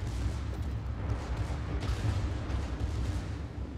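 Battleship Alsace's secondary guns in World of Warships pound away in a dense, continuous rumble of overlapping booms, loud and close, with no clear gaps between shots.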